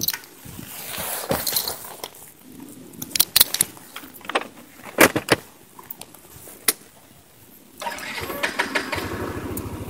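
A Yamaha NMax 150cc single-cylinder scooter with VVA is started for a test ride: several sharp clicks and clunks of handling first, then the engine catches and settles into a steady close idle.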